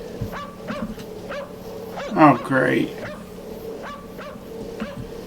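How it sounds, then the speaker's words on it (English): A dog barks in short sharp bursts amid eerie game ambience, with a voice briefly speaking over it. "the dog's going nuts"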